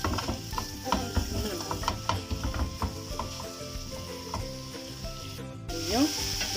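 Onion and minced meat kofta frying in a pan, a steady close sizzle with the scrape and clink of stirring throughout and no talk.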